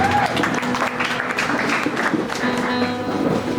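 A church conference congregation applauding after a sermon passage, a dense burst of clapping filling the short stretch at moderate distance, with faint voices mixed in.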